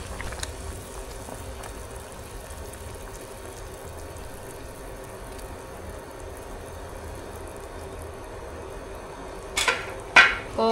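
Water boils in a cooking pot with a steady, hissing bubble that holds at an even level, then a few louder clatters near the end.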